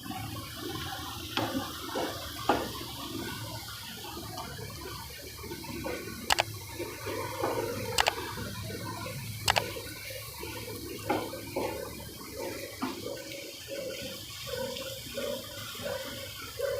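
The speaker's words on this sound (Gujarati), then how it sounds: "ખાંડવાળું પાણી ગરમ કરી નાખવાનું ને પછી આમાં રેડી દેવાનું" Hot sugar water being poured into a pan of vermicelli sev, a steady watery splashing and trickling over a continuous background with a few sharp clinks.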